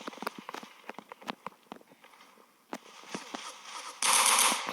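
Gunfire from an offline shooting video game: a run of sharp, close shots, single and in quick bursts, followed by a loud sustained blast of noise near the end.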